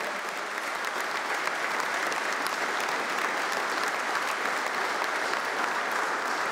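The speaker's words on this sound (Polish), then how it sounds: "I tu wielkie brawa właśnie dla tych, którzy działają od lat, którzy budują Polskę." A large audience applauds at a Polish political rally with Jarosław Kaczyński. The clapping is dense, loud and sustained at an even level throughout, with no pause.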